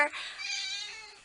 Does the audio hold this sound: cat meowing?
yes